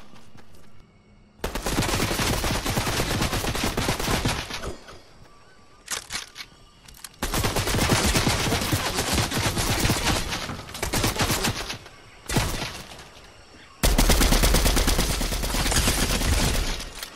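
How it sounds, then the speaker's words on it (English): Bursts of automatic gunfire from the video game Fortnite, a Gears of War crossover match, come in loud dense volleys separated by short lulls, with one final heavy stretch of rapid shots near the end. "Stop shooting at me."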